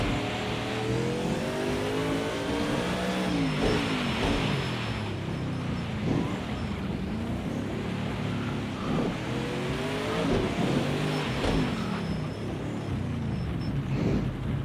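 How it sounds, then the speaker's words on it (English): Several Lamborghini engines rev and accelerate beyond a wall at a racing venue, a continuous muffled roar with rising and falling revs, gear changes and a faint tyre squeal, steady and moderately distant. "I can hear the Lamborghinis on the other side of the wall"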